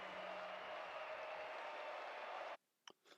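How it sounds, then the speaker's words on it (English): A Rocket League match crowd keeps up a steady, loud, wash-like roar for a couple of seconds, then cuts off abruptly, leaving near-silence with a couple of faint short sounds. "The crowd is chanting for more."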